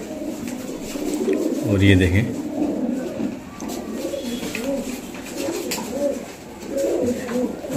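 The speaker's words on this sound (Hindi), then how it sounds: "माशाल्लाह बहुत अच्छी जोड़ है और चिलचिड़े कबूतर हैं ये" Rampuri high-flyer pigeons coo close by, one deep, throaty coo standing out clearly near the middle, while someone talks over the low, rolling bird sounds.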